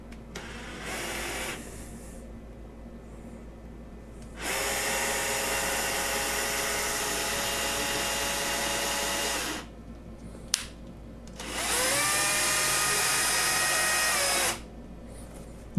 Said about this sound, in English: I'm traversing the x-axis with the cordless drill